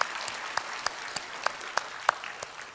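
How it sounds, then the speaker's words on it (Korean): Quiet applause from a church congregation welcoming newcomers at a Sunday service, heard as soft scattered clapping with a few distinct sharper claps standing out at fairly regular intervals. "박수로 환영합니다."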